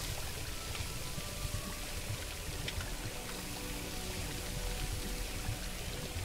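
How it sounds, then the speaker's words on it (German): Water runs steadily in the LEGO Harry Potter video game, a continuous pouring, trickling stream that holds at an even level throughout with no talk over it. "Wasser läuft."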